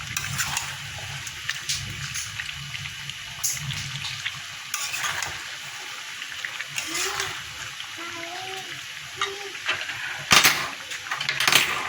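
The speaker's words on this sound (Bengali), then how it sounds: "এবার এই ভাজা আলুগুলো দিয়ে দেব দিয়ে একটু নাড়াচাড়া করে গরম জল দিয়ে দেবো" Fried potatoes being stirred into meat in a wok, with scraping and clinking of a spoon against the pan and an intermittent sizzle, a few sharp metallic knocks near the end and faint voices in the background.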